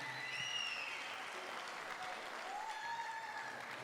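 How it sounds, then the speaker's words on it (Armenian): Wedding guests at an Armenian wedding clapping together in a steady, sustained round of applause, moderately distant, with a few faint voices mixed in. "Մի հատ բարձր ծափարենք բոլոր ընկերներին։"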